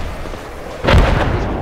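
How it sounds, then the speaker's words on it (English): Mortar shells burst in Project Reality, a military shooter, with a sudden loud boom partway through followed by a rumbling, crackling tail under ongoing game noise. "These mortars."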